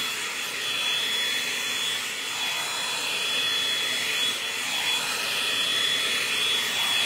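Continuous loud, breathy whoosh of a hair dryer blow-drying hair, running steadily throughout with a faint high whine and no talking.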